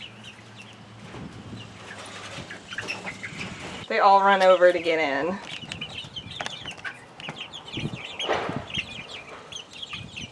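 Pincheon Bantam chickens cluck and call nearby as they crowd over for a sandy slush, with a loud burst of squawking midway and a person talking over the flock.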